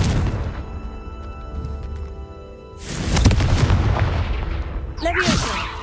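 Confringo fire spell blasts in the Hogwarts Legacy video game, a loud explosive burst landing mid-clip over a rumbling low bed of combat noise, followed by a sharp swirling magical whoosh near the end.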